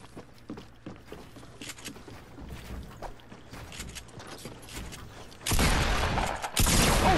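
Gunfire in the video game Fortnite, with quiet clicks and footstep-like taps leading up to a sudden loud, dense burst of shots in the final seconds.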